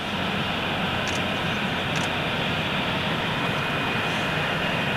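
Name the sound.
aircraft taking off at Cologne Bonn Airport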